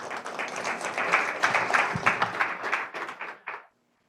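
Audience at a small-business cybersecurity event applauds to welcome a speaker, a brief burst of dense clapping that swells, then fades and stops abruptly after a few seconds.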